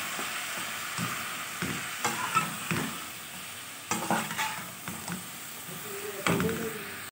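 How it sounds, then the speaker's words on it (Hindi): Mixed vegetable sabzi stirred in a pan, a spatula scraping and knocking at the metal in uneven bursts over a soft sizzle, close and moderately loud. "ये हमने इसको खूब अच्छी तरह से मिक्स कर लिया है"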